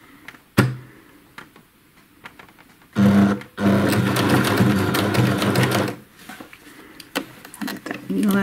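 Sewing machine stitching a binding onto shorts: a short burst, then a sustained run of rapid mechanical stitching for about three seconds, with quieter handling sounds and a brief clack before it.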